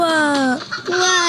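A chicken gives two drawn-out, nasal clucking calls close by, each falling in pitch, with a short pause between them.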